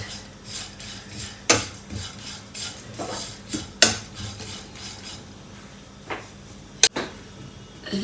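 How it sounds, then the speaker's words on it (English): Red lentils (masoor dal) dry-roast in a pan, with soft scraping as they are stirred and several sharp metallic clinks of the utensil against the pan, spread irregularly over a quiet background. "So while we are roasting the red lentils"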